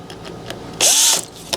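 A drill bit boring into a broken, hardened screw stuck in a door lock, one short high whining burst of under half a second between quieter scraping and clicking, close up.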